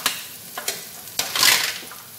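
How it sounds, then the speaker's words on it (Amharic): Chopped onion sizzles in a hot pan for chicken biryani, a soft frying hiss broken by a few quick scraping stirs and one louder burst of spattering, heard close up. "አሁን እዚህ ጋር የተከተፈ ሽንኩርት አለኝ ጨምራለሁ ሽንኩርቴን ጠብሰዋለሁ ማለት ነው"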